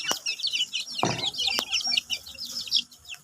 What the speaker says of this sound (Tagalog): Ito po yung manok na puti.